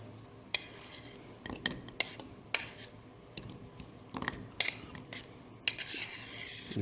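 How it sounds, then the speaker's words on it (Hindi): A spoon stirs condensed milk and cream together in a bowl, scraping and clinking against the sides in an irregular rhythm, close up, with no voices. "इस कंडेंस मिल्क और क्रीम को अच्छी तरह से आप मिक्स कर लें।"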